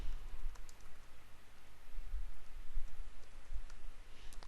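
Keys tapped on a computer keyboard, a quiet, irregular run of soft clicks and taps with no voice over them.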